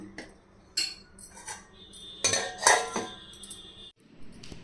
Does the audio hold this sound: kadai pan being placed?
yes